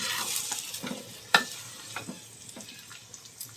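Rice with shahi cumin being stirred and fried in a pan for shahi pulao, a soft continuous sizzle with scraping stirs and a sharp clink of a utensil against the pan.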